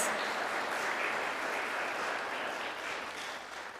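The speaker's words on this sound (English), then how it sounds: "Can we all give her a round of applause for an amazing event?" Applause from an audience at a disability awareness conference, a steady wash of clapping heard alone for a few seconds, fairly faint and slowly fading.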